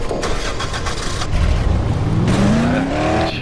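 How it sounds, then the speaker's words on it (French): Car engine in the Dead Island video game cranking slowly before it catches, then a steady mid-pitched idle that climbs into a revving whine, loud and close with no talk. "la voiture qui met un peu de temps à démarrer, juste pour vous mettre la pression"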